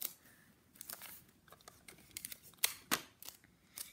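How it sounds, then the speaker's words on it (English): Tape is pulled off a roll and torn in quick, crackly bursts, several short sharp rips and crinkles heard up close and fairly faint against a quiet background. "So I'm just going to tape them down."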